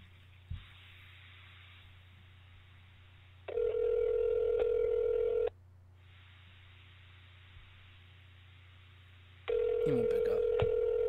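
A phone call rings on the line in repeated long ringback tones, two loud steady bursts separated by a couple of seconds of near silence, with a faint click at the start.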